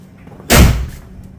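A fuel filler door on a 1991 Mustang GT pops open with a single sharp, close thump that briefly fades, with no talking.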